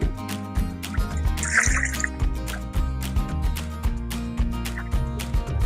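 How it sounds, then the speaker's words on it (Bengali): Washing water is tipped out of a bowl of rinsed fish roe in a home kitchen, a close splashing trickle and drips over a steady tonal backing. "মাছের ডিমগুলো আমি ধুয়ে নিয়েছি, এখন আমি পানিটাকে ফেলে দিচ্ছি।"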